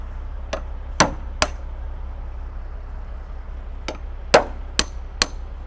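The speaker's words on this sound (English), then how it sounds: "Mine has to be smacked with a hammer." A hammer delivers sharp metallic smacks against a dump truck trailer, about seven separate hits in two clusters, loud and close over a constant low engine rumble.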